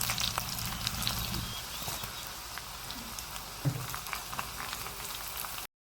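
Spices sizzle and crackle in hot oil as a tempering for sambar, with a busy close fizz of small pops that thins out toward the end and no voices.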